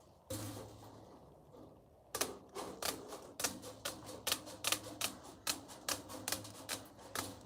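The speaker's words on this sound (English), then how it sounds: "I'm going to cut it with this kind of pliers." Pliers cutting stucco lath: after a brief lull, a rapid series of sharp metallic snips and clicks comes in a steady, evenly spaced rhythm, close and crisp.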